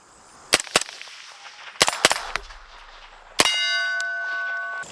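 Suppressed 5.56 rifle shots from an Exigent Defense Vanish suppressor on a 12.5-inch barrel crack sharply at close range, six irregular reports including quick doubles, the final shot followed by a ringing metallic tone.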